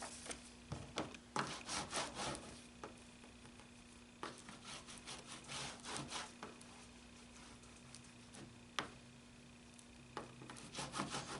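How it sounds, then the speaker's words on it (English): A Coptic-bound book is burnished flat by hand, with quiet irregular rubbing and scraping strokes and small taps, close and soft in a quiet room. "I'm going to open that up slightly and burnish that flat"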